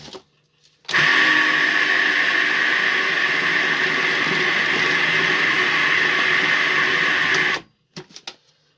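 A food processor mixing flour into loose English muffin dough whirs loudly and steadily for about seven seconds, starting and stopping abruptly with brief clatter after.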